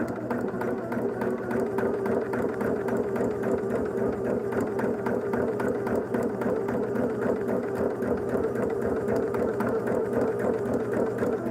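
A sewing machine stitches a modern quilt sampler, running in a steady, rapid mechanical chatter that holds continuously for the whole stretch at close range.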